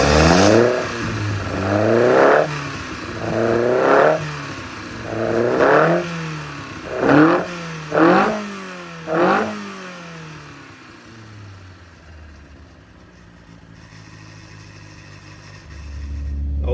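A Carter 998 race engine fires up and idles, then is blipped through about six sharp revs in a steady rhythm before settling back to a low, lumpy idle, loud and close with no talking.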